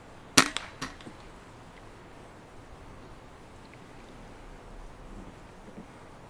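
A single sharp air rifle pellet shot fired at an animal at a feeder, a quick crack with a brief echo or impact, then quiet outdoor ambience with faint wind.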